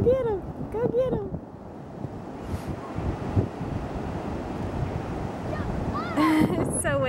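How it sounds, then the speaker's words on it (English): Strong wind buffets the microphone at the seaside, with surf rumbling underneath, while gulls call in short bursts at the start and end. "It's so windy."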